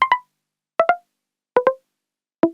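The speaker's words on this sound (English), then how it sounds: "In this case, I used a preset from my Micro Freak virtual instrument" Arturia MicroFreak virtual instrument synth preset plays short plucky paired notes, four quick double blips stepping downward in pitch with silence between, clean and close.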